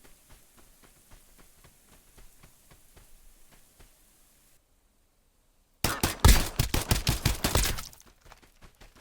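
Rapid burst of game gunfire from Escape from Duckov, a loud dense volley of cracking shots after a quiet stretch of faint rhythmic ticking and a brief silence, then trailing off.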